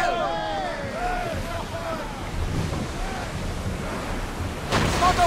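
Wind and rolling sea surf around a sailing ship getting under way in Assassin's Creed Odyssey, a steady windy wash with faint creaks and a sharper burst near the end; scattered voices are heard over it.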